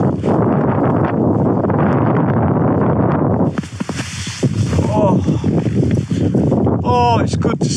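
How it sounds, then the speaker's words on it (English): Strong wind buffets a tent pitched end-on into an easterly gale during a snow storm while camping, a loud continuous roar and flapping that eases briefly midway, with a person talking over it. "So the wind is sort of coming from that direction, which is the east."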